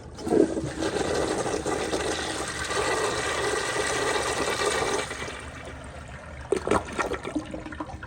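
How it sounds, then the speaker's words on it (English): A new-old-stock 1994 Eljer Kindergarten toilet with a mid-mounted tank flushing: a loud, steady rush of water for about five seconds, then a quieter gurgling trickle as the bowl refills, up close with no talk. "Here's another flush."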